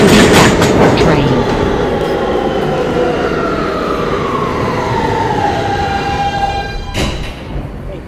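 A G line subway train from a crosstown New York subway game runs with a steady roar and rumble, a rising and falling whine sweeping across it, and a sharp brake or door burst near the end.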